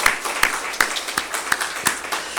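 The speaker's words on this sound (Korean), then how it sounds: "큰 박수로 환영하겠습니다" A church congregation welcoming visiting worshippers at a Sunday service gives light applause, with scattered individual claps standing out over a soft wash of background noise.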